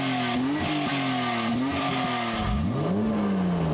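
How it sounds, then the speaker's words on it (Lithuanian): A BMW E30 325 Cabrio's six-cylinder engine pulls through rising and falling revs with a raspy, tinny exhaust note, loud and close, including a dip and fresh climb near the end. "Toks yra tas skardinis, tas BMW, tie 6 cilindrai, tą tokį skardinį išmetimo balsą tokį turi."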